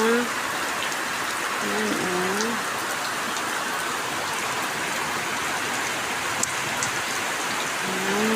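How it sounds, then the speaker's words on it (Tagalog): Steady, dense downpour of heavy rain fills the clip, a constant hiss with faint tonal sounds briefly rising near the start and end. "walang tigil ang ulan. Ayan, ang lakas."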